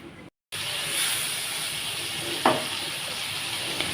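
Fried potatoes, tomato and lentil dumplings stirred into a spice paste frying in a pan, a steady close sizzle and hiss with a brief scrape of stirring, after a short dropout at the start.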